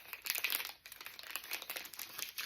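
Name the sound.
peeling and applying a paper sticker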